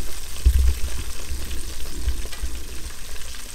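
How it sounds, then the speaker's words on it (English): Coated crappie fillets frying in hot oil, a steady close sizzle and bubbling with no pauses and no talking. "Okay, so once the fillets are coated, just drop them in."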